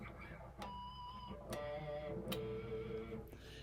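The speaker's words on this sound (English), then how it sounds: "And a pinch harmonic sounds like this." Electric guitar pinch harmonics squeal out as bright, high overtone notes, three struck accents with sustained ringing tones, played with rock or metal style distortion.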